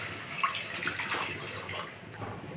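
Milk poured into hot oil in a pan while making semai, a steady watery pouring and splashing rush that fills the whole stretch at moderate level, with no talking.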